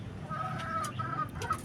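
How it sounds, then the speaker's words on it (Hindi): A hen clucks restlessly while trying to find a spot to lay an egg, giving drawn-out, wavering calls over a steady low background rumble. "ये हमारी मुर्गी अंडा देने के लिए बेचारी डिस्टर्ब हो रही है"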